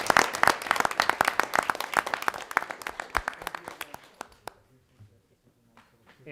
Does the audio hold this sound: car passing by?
no